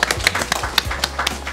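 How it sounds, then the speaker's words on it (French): A handful of seniors at a residence quiz game clap, sparse and uneven individual claps close by, with a low steady hum underneath. "On applaudit."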